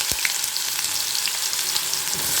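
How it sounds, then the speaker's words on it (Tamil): Cumin seeds crackle and sizzle steadily in hot oil, a close, continuous hiss with scattered tiny pops. "இப்போ சீரகம் நல்லா பொரிஞ்சிக்கிட்டுருக்கு"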